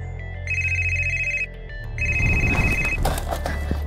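A phone ringtone plays in two sustained bursts with a short gap, clear and fairly loud, over a low hum; rustling noise joins during the second ring.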